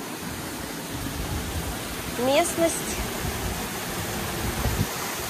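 The Arpat waterfalls near Zelenogorye in Crimea pour as a steady, even rush of broadband water noise, with a voice briefly speaking over it.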